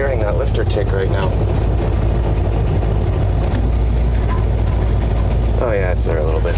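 The engine of a 1964 Ford F100 idles with a steady, loud low rumble close by, while someone talks over it for most of the stretch.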